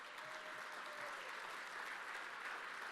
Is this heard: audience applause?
yes